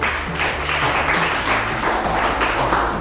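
Audience applause for a school quiz contestant, a class 6 student, at a quiz competition: steady, dense clapping from a crowd filling the whole moment at an even level.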